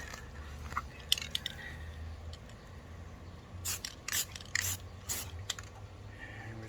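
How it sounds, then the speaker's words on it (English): Spray paint can fired in several quick hissing bursts onto a straight edge, short breathy spurts clustered together, fairly faint and close, with no talking. "I'm not going to actually spray onto the paper. I'm spraying onto the straight edge."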